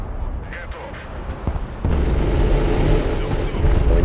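Mortar fire in the Broken Arrow war game: a few dull thumps sound early, then a dense rumbling barrage swells and keeps going. Someone talks over the sound.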